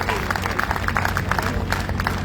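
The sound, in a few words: audience applause for the MLA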